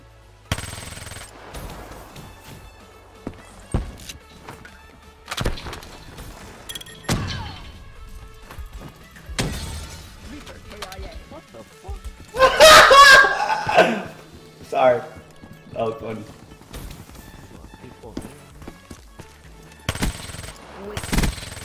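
The Vesper gun in a video game fires in sharp, sporadic bursts, with a dense cluster of shots near the middle. A player's voice talks between the shots.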